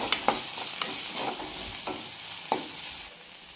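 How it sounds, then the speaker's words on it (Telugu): Ginger garlic paste and turmeric fry in a pan while being stirred, producing a continuous close sizzle with several sharp scrapes and taps of the spoon, alone without voices. "ఇది కొంచెం ఫ్రై అయ్యాక కొంచెం జింజర్ గార్లిక్ పేస్ట్, పసుపు కొంచెం మిక్స్ చేసుకోవాలి."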